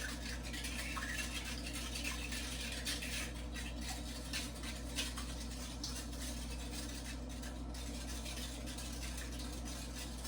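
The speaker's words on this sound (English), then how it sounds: "Stir all that together. Whisk it rather." A whisk beats a strata egg mixture in a bowl, giving a faint, continuous scraping and clicking rhythm over a low steady hum, with nobody speaking.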